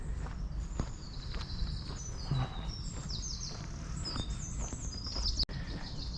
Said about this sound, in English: Birds chirping, people and dogs doing their things.